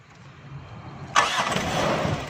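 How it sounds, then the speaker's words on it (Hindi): A car's repaired self starter cranks and the engine catches about midway, jumping from quiet to a loud, steady running roar close by. "अब गाड़ी को सलफ लगाएंगे"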